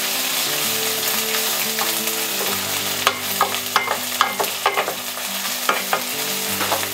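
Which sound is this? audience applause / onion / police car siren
onion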